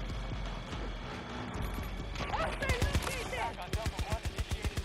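Gunfire from Battlefield gameplay, a run of sharp shots building toward a fast regular burst near the end, mixed with game noise and a voice talking.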